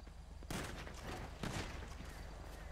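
Police gunshots in GTA 5 roleplay, two sharp loud blasts about a second apart cutting through a low background hum.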